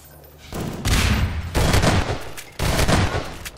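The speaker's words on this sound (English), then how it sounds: "Nice shotgun there by Madara." Shotgun blasts in Half-Life 2 Deathmatch ring out as several loud, booming shots in quick succession, each with a short decaying tail, and no voices.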